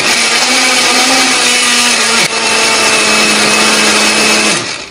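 A blender purees chilies with a little water or oil, a loud, close, continuous motor whine with a steady pitch that dips once midway and winds down at the end, no voices.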